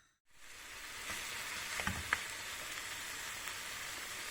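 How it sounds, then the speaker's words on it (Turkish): Meat being sautéed for ali nazik crackles in a pan with a soft, steady sizzle and a couple of brief louder pops. It is fairly quiet and heard alone. "Birlikte kavurmaya başlayalım."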